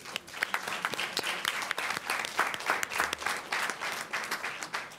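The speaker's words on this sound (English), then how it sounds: "let's give them all a round of applause" Audience at a board meeting awards ceremony applauding the winners, many hands clapping in a steady, fairly distant patter with sharper individual claps standing out.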